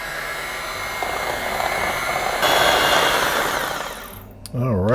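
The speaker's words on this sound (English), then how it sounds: "now I'm going to just take my hand mixer here, low speed, and just bring it all together" An electric hand mixer runs on low speed through pumpkin pie filling, a steady close whirring hum for several seconds that swells slightly and then fades as a voice begins talking.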